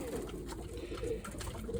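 Young pigeons gathered and waiting before feeding coo quietly and continuously under a soft, steady background hum.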